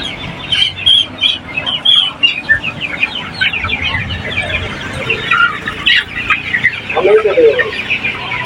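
Sonali chickens on a poultry farm cluck and chatter loudly and continuously, many birds close by in overlapping bursts, with a voice briefly audible among them.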